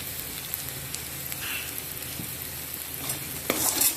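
Spinach and spices such as garam masala, chilli powder and turmeric sizzle in a pan for cutlets, with a steady frying crackle and occasional stirring scrapes near the end.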